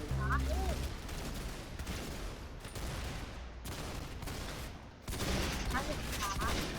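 Dense, loud gunfire rattles from a Roblox shooting game in near-continuous bursts, with a brief dip before it resumes. Faint voices may sit under the shots.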